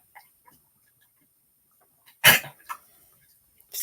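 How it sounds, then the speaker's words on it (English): Mostly quiet, then a dog gives a harsh hacking cough, followed by a couple of shorter coughs or gags. "Dog's over here hacking and coughing."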